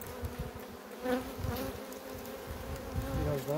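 Honeybees buzz steadily around an open hive frame during an inspection, a close, continuous drone with small surges, and no voices.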